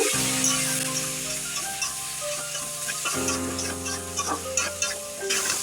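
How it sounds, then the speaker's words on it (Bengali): Olives seasoned with salt, turmeric and chili powder are stirred and simmered in a pan for a pickle, giving a soft steady sizzle with light scraping clicks, partly under background music. "এইভাবে কিছুক্ষণ সময় ধরে নেড়ে চেড়ে জলপাইটাকে সিদ্ধ করে নিব"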